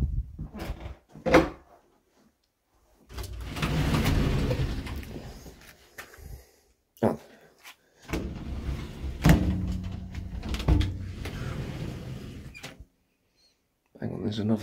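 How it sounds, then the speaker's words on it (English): An old door in an abandoned mansion is handled and opened, with creaks, knocks and thuds amid bursts of nearby movement and a person talking. "There's another door behind here."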